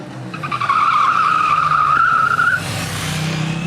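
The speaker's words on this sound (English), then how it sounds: "The feature I use to slide the bike is known as Supermoto ABS." KTM Duke 890 motorcycle with its rear wheel sliding under Supermoto ABS braking, a loud sustained tire squeal over engine noise lasting about two seconds, then fading into a rougher engine rumble.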